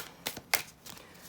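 Tarot cards shuffled by hand in a quiet room, a few soft papery riffles and slaps in quick bursts, close and fairly faint.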